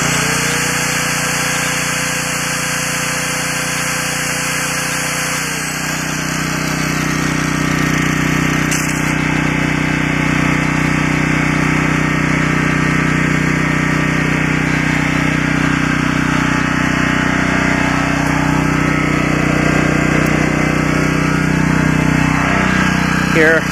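A 1999 Generac 4000XL generator engine runs steadily under load, a loud close continuous drone with a constant hum and mechanical rattle, the tone dipping briefly as load changes.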